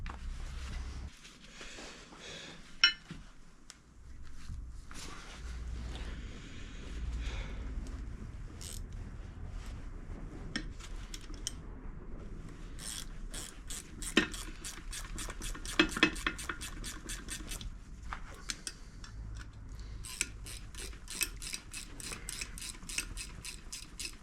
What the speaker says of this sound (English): Get a spanner, do them up.